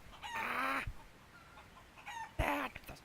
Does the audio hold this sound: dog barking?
no